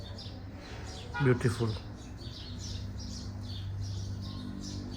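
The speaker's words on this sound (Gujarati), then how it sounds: "પક્ષીઓનો સરસ મજાનો અવાજ આવી રહ્યો છે" Birds chirp repeatedly at a distance during a quiet village evening, soft tweets recurring throughout, with a person briefly speaking near the start.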